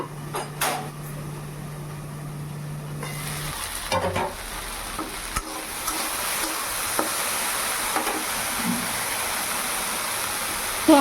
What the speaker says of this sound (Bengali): আমার ভেন্ডিটা অনেকটা ভাজা ভাজা হয়ে গেছে